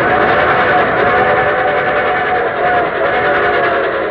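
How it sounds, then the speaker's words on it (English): Old radio broadcast train sound effect, a loud steady rumble of a rolling train with a whistle blended in, sustained and close throughout with no speech. "And here comes our star-studded show train."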